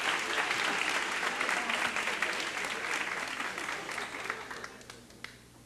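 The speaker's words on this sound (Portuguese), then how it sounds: "Por favor, aplaudam o Bernardo" Applause from an audience at a church worship music event, dense clapping that starts full and gradually thins and fades toward the end.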